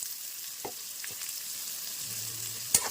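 A large onion fries in hot oil with a steady, close sizzling hiss, broken by a few faint pops and one sharp click near the end.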